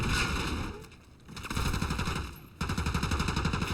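Rapid bursts of marksman rifle fire in a first-person shooter video game, several loud rattling volleys separated by a short lull, close and dense.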